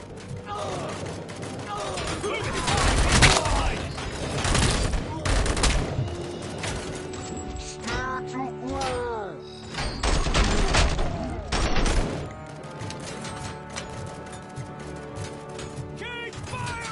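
Dense bursts of gunfire from Robocop: Rogue City, with volleys and rapid automatic fire cracking in close, mixed with mechanical clanks and debris, while voices talk over the fighting.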